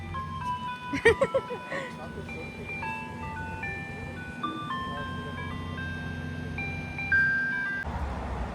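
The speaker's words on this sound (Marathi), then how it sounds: "इथे आईस्क्रीमची गाडी आली आहे, मुलं आईस्क्रीम घेत आहे." An ice cream truck has stopped nearby in a US neighborhood, its tinkling electronic jingle playing steadily over a low idling engine. Faint voices and a few knocks come through in the foreground.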